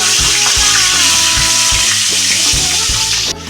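White cumin seeds crackle loudly in hot oil in a kadai, a dense close hiss broken by a regular rhythm of scraping stirs.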